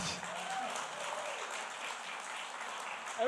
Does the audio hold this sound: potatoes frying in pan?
no